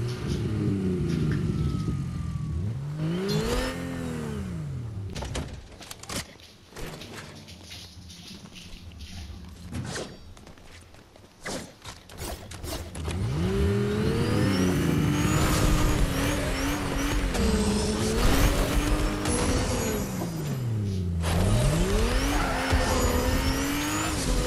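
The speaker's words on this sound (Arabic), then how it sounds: "معي سيارة عجلة كبير." A big-wheeled car in the Fortnite video game revs and drives, its engine pitch swooping up and down, with tire squeals and skids breaking in near and loud over a steady rumble.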